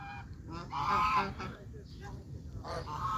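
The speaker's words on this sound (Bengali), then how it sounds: "ওই এখানে কতগুলি চীনা হাঁস আছে, ছোট ছোট।" Domestic ducks on a haor wetland in rural Bangladesh giving loud honking calls in short bursts, with people talking nearby.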